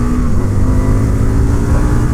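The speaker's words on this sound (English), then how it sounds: "bang it down into second and then pick up the revs" An Indian FTR1200 S motorcycle engine revs hard in second gear, a loud, close, steady deep roar with a throbbing low rumble lasting the whole short stretch, no voices.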